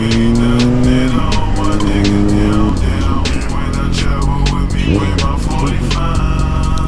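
An Audi R8 sports car drives past on the road, its engine note rising and falling through gear shifts as it goes by, loud and fairly close, with no talk over it.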